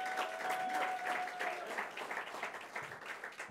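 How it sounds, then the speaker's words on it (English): Audience at a trade and tourism office opening in Puerto Rico applauding, a steady wash of fairly distant clapping with no talk. "Let's give her a round of applause."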